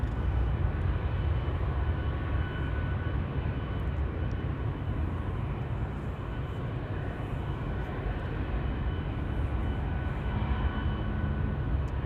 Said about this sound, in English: 777-300 to Johannesburg also active and on the move.